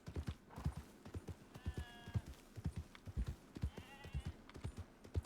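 Horse hooves clip-clop on the ground in the open-world game Red Dead, an uneven walking rhythm heard up close, with a brief whinny partway through and no talking.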